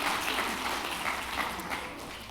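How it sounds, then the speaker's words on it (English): A church audience claps together in a steady, moderately distant wash of applause that holds evenly for a couple of seconds. "Yes, you can clap for that"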